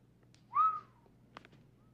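A person whistles one clear rising-then-falling note, close and fairly loud against a quiet room, followed by a couple of soft knocks.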